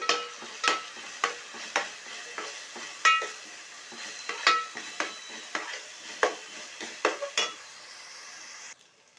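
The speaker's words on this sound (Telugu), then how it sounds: "ఇందులో నేను అల్లం వెల్లుల్లి పేస్ట్ వేసాను కదా, ఆ పచ్చి వాసన అంతా పోయేంత వరకు వేపుకోవాలి ఆయిల్లో." Ginger garlic paste frying in hot oil for chana masala, with about fifteen sharp spoon-scrapes against the pan in an irregular rhythm over a soft sizzle, close and fairly loud, no voices.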